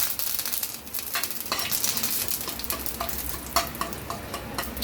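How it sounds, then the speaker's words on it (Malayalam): Curry leaves and two dried red chilies sizzle and spit in hot oil for a sambar tempering, a steady close crackle with sharp pops, no voices. "കുറച്ച് കറിവേപ്പില ഇട്ട് കൊടുക്കാം. 2 വറ്റൽമുളക് ഇട്ട് കൊടുക്കാം."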